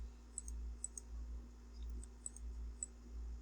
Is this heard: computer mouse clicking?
yes